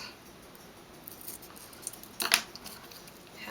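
Scissors snip through paper during journaling: a quiet background with a few faint clicks, then one short, sharp crisp cut near the end, no voices.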